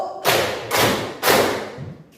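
Three loud group claps from a classroom clapping game, evenly spaced and close, each followed by a ringing room decay. No voices are heard over them.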